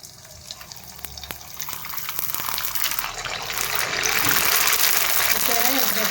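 Sago papad drops into hot oil and bubbles up into a steady, rising sizzle that grows louder and fuller over a few seconds.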